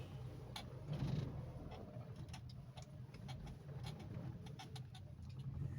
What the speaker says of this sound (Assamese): এই গাড়ীৰ কিটিক কিটিক চাউণ্ড চাগে আপোনালোকে নিশ্চয় শুনা পাইছে